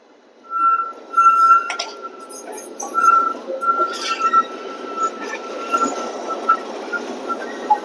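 Trams rolling through a street in Milan, their wheels squealing in a sustained high whine over a steady rumbling rail noise, with bursts of metallic screeching and clatter as they pass close by.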